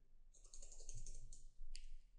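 Quick bursts of typing on a computer keyboard, a steady run of close, light keystrokes, a short pause, then a final few keys.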